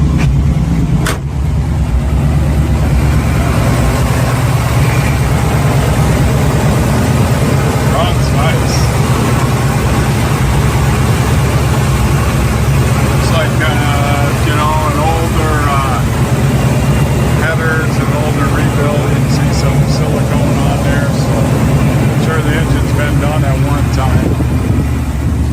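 A truck engine idles with a low, steady exhaust rumble up close, while a person talks over it for much of the time.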